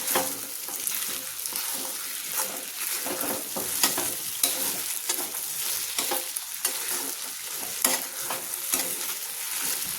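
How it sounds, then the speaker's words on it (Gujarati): Sabudana khichdi is stirred in a hot pan, with continuous sizzling and frying plus repeated scraping strokes of a spoon against the pan, close and alone. "હલાવી લઈશું આવી રીતે।"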